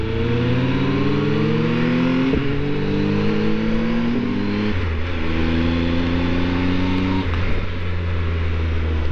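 Loud BMW motorcycles riding along the D110 road in the French Alps give a steady, droning engine roar whose pitch steps up and down through gear changes, with no speech.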